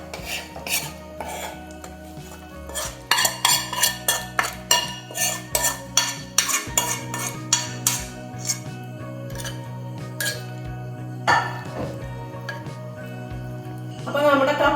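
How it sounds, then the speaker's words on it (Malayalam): A ladle clinks and scrapes against a pan while fried mackerel curry is moved into a clay pot. Metallic knocks and clatters come in an irregular run of sharp hits, with a steady tonal sound underneath. "ഇനി ഇത് നമുക്ക് ഈ ചട്ടിയിലേക്ക് ഒഴിച്ചു വെക്കാം"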